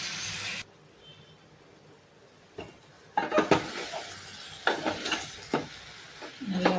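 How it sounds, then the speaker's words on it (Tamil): Ground tomato paste sizzles in oil in a pan for tamarind okra curry, a soft background hiss broken by the scrape and clatter of a spoon stirring, with faint cooking sounds in a quiet kitchen. "இது கொஞ்ச நேரம் எண்ணெயில் ஃப்ரை ஆகட்டும்."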